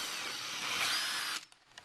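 A close power drill with a 9.5mm bit whines at high speed for over a second while fitting coat hooks in a Range Rover Evoque interior, then stops abruptly, leaving quiet with a few faint clicks.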